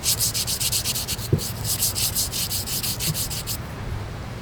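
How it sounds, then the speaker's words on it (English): Steady back-and-forth scrubbing with a cleaning brush inside the receiver of an AK-74 rifle, close and rhythmic, with a single small metallic tap midway and the scrubbing stopping near the end. "Just wanna scrub inside there."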